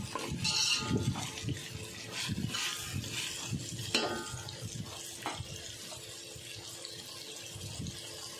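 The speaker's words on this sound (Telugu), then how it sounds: "ఆయిల్ సపరేట్ అవుతున్నా అంటే బెండకాయలు అయితే ఫ్రై అవుతాయి." Okra frying in oil hisses and sizzles steadily up close, broken by repeated scraping stirs of a spoon against the pan.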